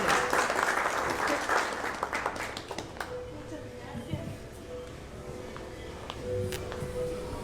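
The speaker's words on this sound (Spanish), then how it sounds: "A quien recibimos con fuertes aplausos, por favor, Natalia, que nos acompaña" Strong applause from an audience at a poetry book launch, dense clapping loud at first and then thinning into scattered claps with murmured voices, rising again briefly near the end.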